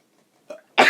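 A quick intake of breath is followed by one loud, sudden sneeze up close, then silence.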